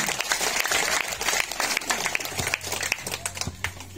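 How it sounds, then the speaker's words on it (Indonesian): Audience applause at a village head candidate debate in Lembata, a few seconds of scattered, fairly faint clapping from a crowd with some voices mixed in. "Kita berikan aplaus untuk option A."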